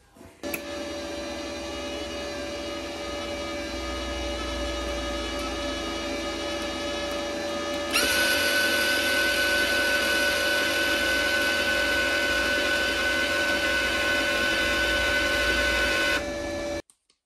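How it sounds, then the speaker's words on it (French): A MIG welder's wire feed motor, on a machine set up for car bodywork, runs as the torch trigger is held: a steady mechanical whir with a constant tone that steps louder and brighter midway, then cuts off near the end. "je vais démarrer le poste. Je vais appuyer sur la gâchette et ça permettra de faire sortir le fil."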